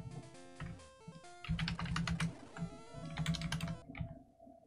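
Rapid, dense keystrokes on a computer keyboard during a Pokémon Crystal game stream, clattering in quick bursts with brief pauses, close and fairly loud over a faint game tone.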